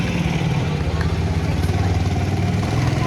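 A motorcycle engine runs steadily with a low, even throb, close and continuous with no pauses.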